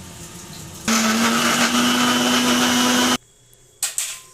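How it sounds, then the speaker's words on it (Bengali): A mixer grinder whirs loudly as it blends garlic, tomato and dried chilies into a paste, a steady motor drone running about two seconds before cutting off abruptly, followed by a brief clatter. "রসুন, টমেটো আর শুকনো লঙ্কাগুলোকে একটা মিক্সির জারে নিয়ে নিয়েছি পেস্ট করার জন্য।"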